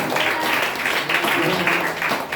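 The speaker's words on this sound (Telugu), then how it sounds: "గట్టిగా చప్పట్లు కొట్టి హల్లెలూయా." A church congregation claps loudly during a worship service, a dense, steady wash of applause that runs the whole moment, mixed with voices.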